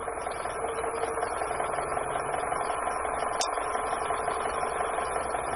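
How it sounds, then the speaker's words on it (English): Wood lathe running steadily while turning a bowl, a continuous mid-pitched motor hum with faint vibration and no talk. "As soon as I start to feel the lathe vibrate"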